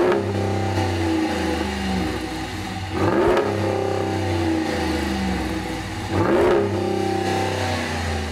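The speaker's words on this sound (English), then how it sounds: "Let me reintroduce you to one of my favorite power plants, the HEMI." A 2013 Ram 1500 with a 5.7 liter HEMI V8 revving, with a steady loud idle drone broken by two sharp rises in revs, close and alone.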